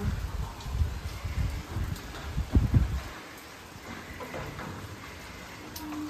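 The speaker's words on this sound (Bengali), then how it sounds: "এই দেখো কি সুন্দর বৃষ্টিটা পড়ছে" Rain falling outdoors around a house on a stormy day, a soft steady patter with denser, louder bursts early on before thinning to a quieter hiss, no voices.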